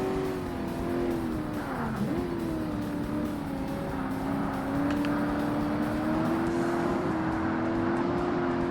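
Race car engines in the video game Forza Motorsport on Xbox during a classic sports car event, a loud sustained engine drone with a pitch dip and recovery as the car shifts, plus brief tire squeal, continuous and close.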